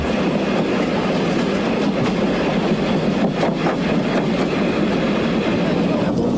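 A train rolls along the rails with a loud, steady rumble and rhythmic clacking of wheels, continuous and close throughout.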